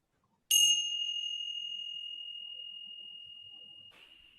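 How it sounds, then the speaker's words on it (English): Meditation bell struck once in a quiet room, a bright metallic strike followed by a long, clear ringing tone that slowly fades over several seconds, fairly soft and alone. "the sound from the bell"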